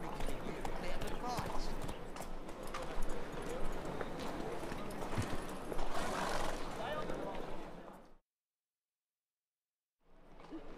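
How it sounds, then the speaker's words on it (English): In The Witcher 3 video game a horse gallops with continuous hoof clip-clops and an occasional whinny, set under game dialogue and ambience, then cut off by a short silence before the sound returns faintly. "Run, Roach."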